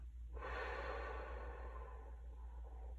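A slow, steady exhale of breath lasting a couple of seconds, close and soft, fading gradually over a low background hum during a guided relaxation.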